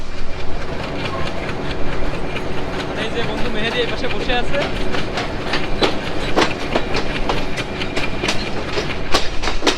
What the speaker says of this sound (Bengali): আমাদের ট্রেন দৌলতপুর রেলওয়ে স্টেশন থেকে তার পরবর্তী রেলওয়ে স্টেশন নোয়াপাড়ার উদ্দেশ্যে চলতে শুরু করেছে